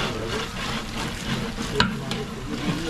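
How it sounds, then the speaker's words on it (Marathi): Mutton coated in Agri-style masala is stirred steadily in a hot pan, giving a continuous close scraping under a soft frying sizzle, with one or two brighter knocks of the spoon against the pan. "आणि असं सारखं ढवळत राहायला लागते म्हणजे खाली लागू नये म्हणून."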